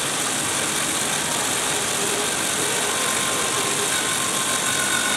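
A case trimmer spins and cuts cartridge brass for ammunition reloading, giving a steady, loud broadband whirring grind that runs throughout with no talking.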